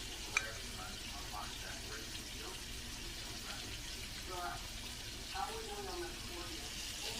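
Chicken wings fry in a kitchen, a steady broadband hiss of oil running throughout at moderate level, with a sharp click near the start and background voices murmuring underneath.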